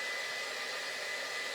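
A hair dryer blows steadily over wet paint on a handmade wood craft sign, a constant whooshing hum with a faint motor whine and no variation across the short stretch.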